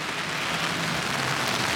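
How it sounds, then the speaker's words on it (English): Rain falls steadily outdoors in Louisville, Kentucky, a dense, even hiss of drops on surfaces, fairly loud and close, with no voices over it. "And it started raining."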